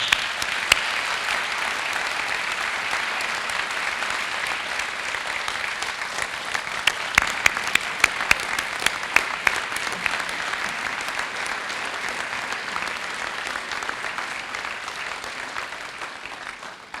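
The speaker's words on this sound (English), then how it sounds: "Let's give them another big round of applause" Sustained, steady applause from a large audience, a dense even wash of clapping that holds for the whole stretch with a few sharper claps standing out midway, no voices over it.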